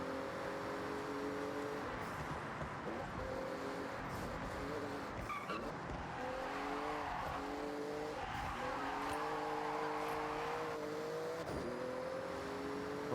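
A Porsche in the racing game Forza Horizon roars at speed through a speed zone, its engine note rising and falling through gear changes with tire squeals and skids, loud and continuous throughout.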